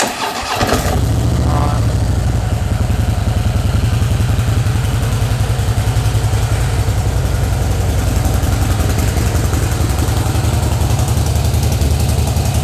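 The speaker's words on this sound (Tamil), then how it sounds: "I am turning on the engine." A Harley-Davidson Fat Boy motorcycle's 1750cc engine cranks and fires, then settles into a loud, deep, throbbing idle that continues steadily throughout.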